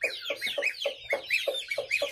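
A Giant Indian hen clucks close by in a rapid, even series of about nine sharp clucks over roughly two seconds, with no talking.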